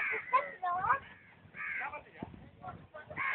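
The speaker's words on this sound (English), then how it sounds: "That's a crow. That is the crow." A crow caws nearby at a house, harsh repeated calls scattered among people talking in the foreground, the cawing and voices overlapping throughout.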